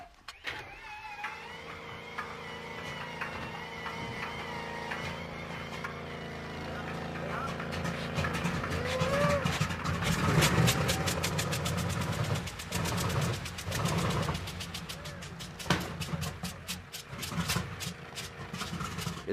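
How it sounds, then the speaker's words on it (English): An old engine being cranked over and over without catching, rapid rhythmic turning pulses that grow louder and stop and start, with people talking close by. "Now it's time to start an engine."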